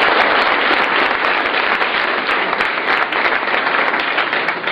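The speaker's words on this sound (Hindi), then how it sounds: "सर के लिए ताली बजाइए।" A convocation ceremony crowd applauds loudly and steadily, sustained dense clapping filling the whole short stretch without pause.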